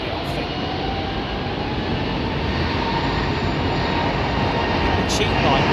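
A leased airliner in basic livery departs London Heathrow Airport, its engines giving a loud, steady roar that holds throughout.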